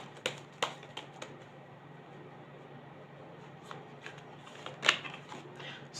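Tarot cards are shuffled by hand, with soft riffling and sharp flicks that come in scattered bursts over a quiet room hum.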